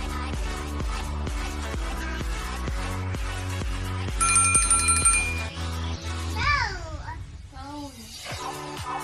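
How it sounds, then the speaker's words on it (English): A bell rings a bright, repeated tone for a couple of seconds over a steady musical backdrop, with children talking nearby. "It's bell."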